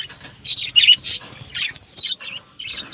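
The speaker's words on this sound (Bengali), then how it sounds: "এটা আমাদের বাড়ির বাচ্চা পাখিগুলো" Baby birds chirping in a household bird colony: short, high, bright chirps in quick bursts, close and fairly loud, with brief pauses between calls.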